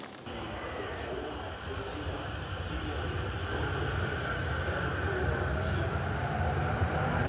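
A commuter train runs between Shinjuku Station and Koenji in Tokyo, a steady interior rumble of wheels and car noise that swells slightly over several seconds, with faint background sounds.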